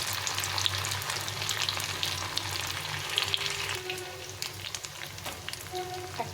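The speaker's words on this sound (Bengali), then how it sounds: "একটু মুচমুচি করে ভেজে নিতে হবে।" Banana flower peels frying crisp in hot oil give a dense, close crackling sizzle that runs steadily throughout, with faint stirring and popping bursts on top.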